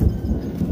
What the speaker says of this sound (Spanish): Ya viene la tormenta.